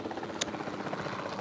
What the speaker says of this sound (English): where'd the helicopter go?